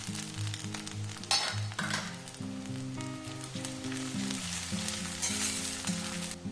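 Chopped onions with ginger, garlic and green chilli paste fry in a pan, giving a steady close sizzle with occasional stirring scrapes, set under continuous background music.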